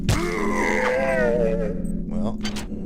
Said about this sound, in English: Oh, listen to its ragged breathing.